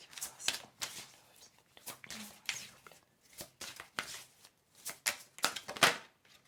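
Cards taken out and shuffled for a reading: repeated rustling riffles and soft slaps in uneven bursts, close and fairly quiet, with brief pauses between handfuls.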